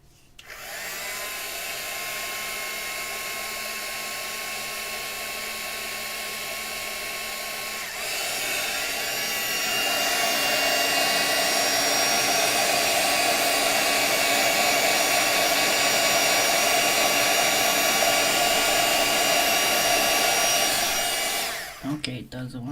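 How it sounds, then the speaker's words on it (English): A heat gun blows hot air in a steady, loud whoosh for about twenty seconds. It grows a little stronger partway through and cuts off near the end. "heat gun."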